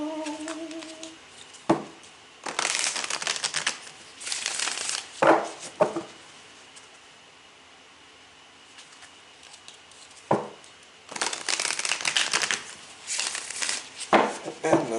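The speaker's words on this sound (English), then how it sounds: "Let's give these cards a little shuffle" Tarot cards are shuffled in several quick bursts of riffling and rustling, close and crisp, separated by short pauses and a few soft taps.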